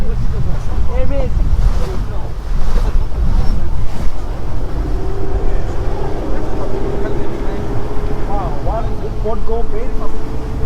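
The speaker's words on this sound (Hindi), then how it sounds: "तो बोट चल पड़ी है। हम फ्रंट के हिस्से पे बैठे हैं और यहाँ से सारा कुछ दिखाते हैं आपको। स्पीड पकड़ रही है बोट।" A boat under way on the sea off Aldar island in Bahrain, with a steady low engine drone, wind rushing across the microphone and water splashing past the hull, continuous and close; voices are heard over it.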